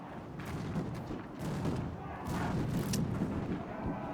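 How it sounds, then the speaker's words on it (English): Shrapnel artillery fires in a Victoria 3 battle scene, a series of muffled, distant booms and thuds repeating irregularly over a low battle rumble. "That's a shrapnel artillery piece right there is what that is."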